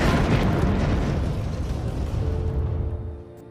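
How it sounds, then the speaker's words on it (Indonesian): A planted bomb trap detonates at a station in a zombie film, a single heavy explosion whose deep roar rolls on and slowly fades over a few seconds, with no voices. "bos memerintahkan untuk meledakkan jebakan bom yang telah mereka pasang"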